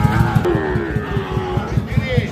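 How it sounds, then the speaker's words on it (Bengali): A Sahiwal bull calf at a cattle sale gives one drawn-out, falling moo, with a rhythmic thumping pulse and faint background bustle underneath. "এইটাও কিন্তু দেখতে চমৎকার একটা ষাঁড় বাছুর"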